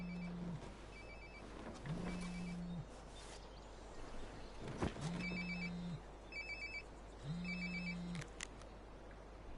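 A flip phone rings in the video game Life Is Strange: Before the Storm, four clear, evenly spaced electronic ring bursts over a quiet background hum.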